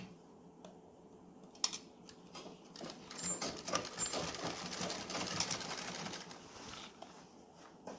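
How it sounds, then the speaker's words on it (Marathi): A sewing machine topstitches a neck binding strip on a kalidar kurta, a faint, steady mechanical whir running for several seconds with light clicks at the start and end, no voices. "दाब शिलाई देऊन घेऊयात."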